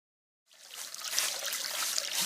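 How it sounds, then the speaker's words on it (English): Fresh, clean water trickles steadily in a soft, continuous hiss that starts abruptly after a brief silence and stays fairly even and close throughout. "Listen to the beautiful sound of fresh, clean water."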